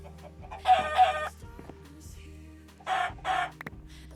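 Minecraft chickens clucking close and clear in two pairs of sharp bursts, one early and one late, over faint game ambience with other soft blips between.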